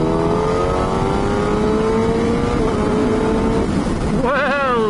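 Motorcycle riding on a motorway, with a loud, continuous engine drone and heavy wind rush throughout, a sustained tone gradually shifting in pitch and rising near the end, close to the rider.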